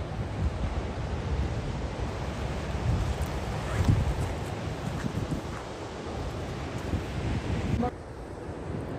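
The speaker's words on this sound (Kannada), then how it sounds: "ಸಮುದ್ರದ ಬೋರ್ಗರತ ಕೇಳಿಸ್ತಾ ಇದೆ" Waves surge onto the beach at Bailmudi in a continuous broad roar mixed with wind buffeting the microphone, steady throughout with brief quieter moments.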